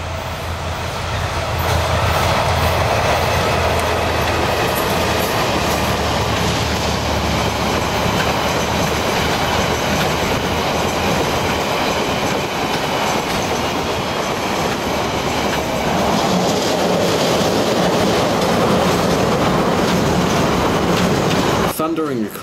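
The TranzAlpine Express rumbles loudly and continuously along the rails near the Arnold River and Kotuku, with a steady roar of wheels and faint clatter throughout, while a narrator speaks over it.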